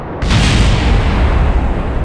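A sudden loud rocket engine separation boom in Kerbal Space Program after overheating, followed by a sustained, dense roaring rumble that holds steady to the end.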